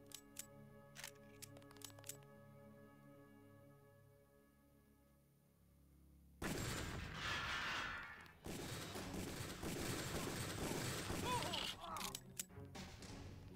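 Gunfire in the video game Deus Ex, a loud, dense burst of shots and impacts that erupts after a quiet stretch of ambience and carries on with a short break, with people talking underneath.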